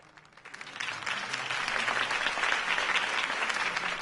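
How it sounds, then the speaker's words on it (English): Sustained crowd applause following a political campaign speech for a city election, rising within the first half second and staying dense and steady, a broad wash of many hands clapping with no voices on top. "If only Mr. Wayne, my campaign's largest backer, could have heard that applause"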